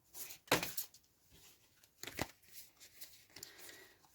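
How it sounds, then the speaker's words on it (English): A deck of Starseed Oracle cards is shuffled by hand in a few quick riffling bursts, close and crisp, separated by quieter rustling and pauses. "we're going to shuffle the Starseed Oracle and see what else you need to know"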